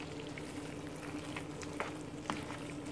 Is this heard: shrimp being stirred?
yes